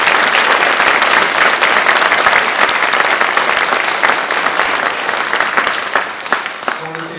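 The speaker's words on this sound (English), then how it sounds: "So could we give all the students one round of applause?" An audience at an area high school band event gives the students a long round of applause, dense and loud at first and gradually thinning out, with a voice starting to speak at the end.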